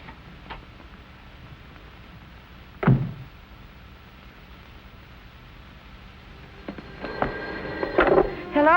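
An old-fashioned telephone bell rings in a 1945 film noir, a few faint bursts near the end under quiet room noise and brief background sounds.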